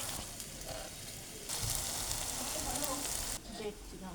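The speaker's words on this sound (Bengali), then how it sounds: "বিউলির ডালের রস বড়া তেলে দিতেই এগুলো বড় বড় হয়ে ফুলে যাচ্ছে একদম" Urad dal rosbora fritters frying in hot oil, a steady close sizzle that swells louder through the middle and eases near the end, with no one talking.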